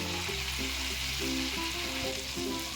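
Butter and green chillies fry in a pan with a steady, close sizzle that runs throughout, broken by a few soft stirring scrapes, and no voices.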